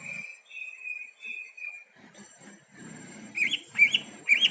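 Green leafbird calling in a competition setting, first a sustained clear whistled note, then a run of sharp bright chirps and twitters that grow louder toward the end, with faint background rustling.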